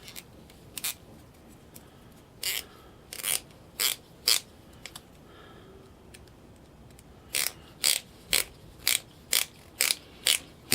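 A 4-40 button head Allen screw being driven in with a hand tool, heard as close, crisp ratcheting clicks in short irregular bursts, then a steady rapid run of clicks as it tightens.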